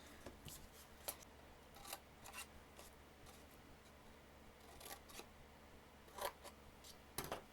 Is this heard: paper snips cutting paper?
yes